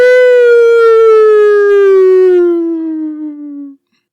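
A person vocally imitates a siren with one long, loud, steady wail that slowly falls in pitch over about four seconds and then cuts off abruptly, heard alone.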